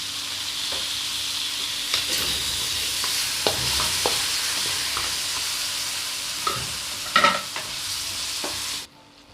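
A spoon scrapes and stirs through sugar syrup dissolving in a pan over heat for salty crispy mango, with a constant soft sizzle beneath sporadic clinks and scrapes against the pan, ending abruptly.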